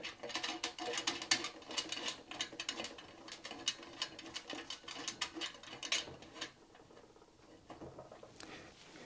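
A screw is tightened by hand with a ratcheting tool while a stainless steel prep table is assembled, giving a quiet run of rapid clicks in short bursts that fade toward the end.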